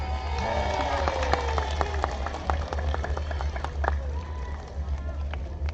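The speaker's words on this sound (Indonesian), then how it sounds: "Tepuk tangan." Audience at a public speaking contest applauds with scattered claps over a steady low hum, while voices chatter continuously underneath.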